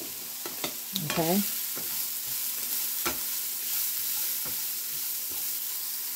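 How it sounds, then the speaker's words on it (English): Garlic cloves sautéing in a pot, a steady soft sizzle with scattered utensil taps and clicks, a brief scraping stir early on, and a short spoken word over it. "And then add your two cloves of garlic and finish sauteing."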